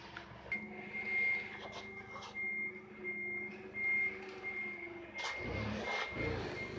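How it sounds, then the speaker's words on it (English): A forklift's reversing alarm sounds in a workshop, a steady series of evenly spaced high beeps at moderate distance, ending with a couple of heavy knocks and rustles. "Pop's manning the forklift in the back."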